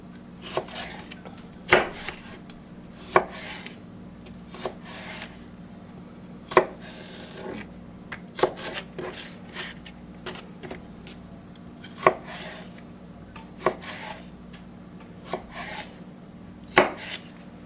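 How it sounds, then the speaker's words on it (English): A knife slices celery on a wooden cutting board for smoked chicken chili, producing a series of sharp, irregular taps on the board with soft scraping between cuts, close and clear, with no talking. "I don't want my celery to be super big chunks. So I'm going to"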